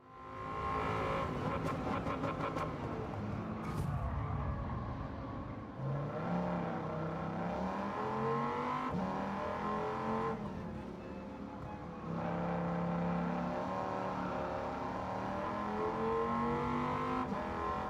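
Engine of the SRT10 car in Gran Turismo 7, a loud continuous roar that revs up and down through gear changes, alone without talk.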